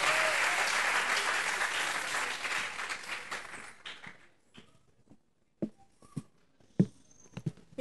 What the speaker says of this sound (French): Sous vos applaudissements, Mabignat